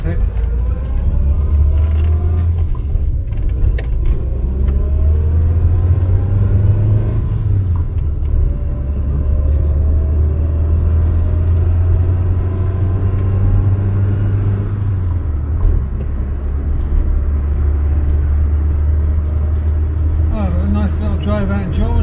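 An Austin Allegro classic car driving on the road, its engine giving a steady low rumble throughout the cabin while someone talks over it almost continuously.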